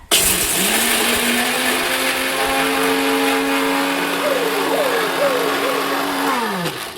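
Home mixer grinder grinding chillies, a loud steady motor whine that starts abruptly, holds a constant pitch with rattling blades for several seconds, then winds down at the end.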